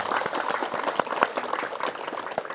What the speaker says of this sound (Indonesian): Sekali lagi, tepuk tangan buat Pak Siddhartha dan Ibu Siddhartha.